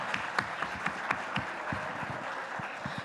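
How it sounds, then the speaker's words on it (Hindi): An audience at the TV9 Satta Sammelan event breaks into steady clapping, a dense wash of hands with distinct individual claps popping through, moderately close and without speech. "जोरदार तालियां।"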